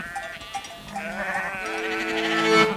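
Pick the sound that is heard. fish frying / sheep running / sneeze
sheep running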